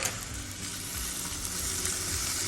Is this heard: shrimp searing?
yes